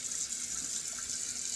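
Water runs steadily from a kitchen tap during washing up: a continuous, fairly loud hiss and splash with no pauses, no voices.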